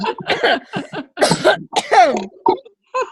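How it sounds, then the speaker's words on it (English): A person coughing several times in quick, harsh bursts close to the microphone, with brief gaps between. "I'm sorry, I'm coughing."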